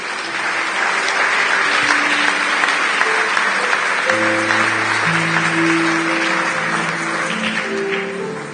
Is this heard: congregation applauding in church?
yes